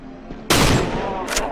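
Gunfire in the video game Cry of Fear: a sudden loud close shot bursts out, its ringing tail fading before a second sharp blast near the end.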